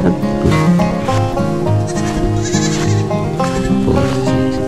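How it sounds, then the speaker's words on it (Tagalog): Several goats bleat repeatedly and loudly nearby, their wavering calls overlapping in a busy, continuous chorus. "Mga kambing."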